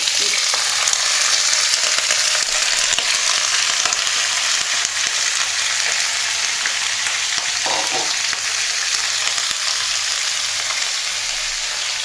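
Onion sizzles and fries in hot oil in a pan, a dense continuous crackle that holds steady throughout, with a brief stir or clink partway through and no talking.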